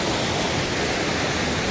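Bekare waterfall in the monsoon season, heard as a steady, dense rush of falling water that holds an even, loud level throughout with no voices.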